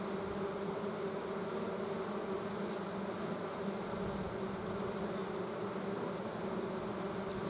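Honey bees hum continuously around an open beehive during frame work, a dense, steady swarm drone at low level with no pauses.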